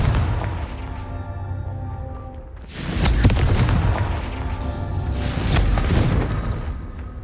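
Confringo blasting spells explode in Hogwarts Legacy: two loud, rumbling bursts a few seconds apart, each swelling and then trailing off over steady background noise.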